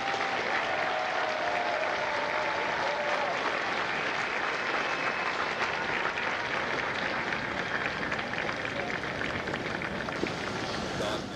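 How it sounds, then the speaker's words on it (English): Sustained audience applause fills the outdoor Marine recruit graduation ceremony at MCRD San Diego, a dense, steady wash of many hands clapping at moderate distance with no break throughout. "please join me in a round of applause for the staff of my company."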